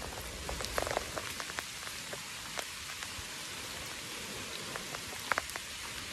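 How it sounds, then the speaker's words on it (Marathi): Light drizzle pattering steadily on a surface on the Bhimashankar mountain trek, soft and even with scattered individual drops, no voices. "आणि त्यात रिमझिम पाऊस पण पडतोय"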